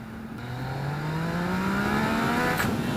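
A 2017 Yamaha XSR900 motorcycle engine pulls hard under acceleration into a wheelie. The revs climb steadily and stay loud and sustained throughout.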